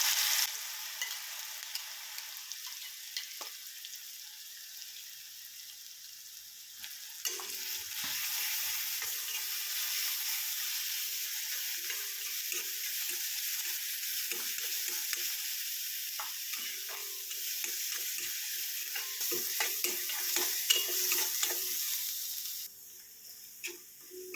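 Steady, loud sizzling of mustard seeds and crushed shallots and chili frying in hot oil, continuous throughout, with occasional light clinks of stirring and no voices.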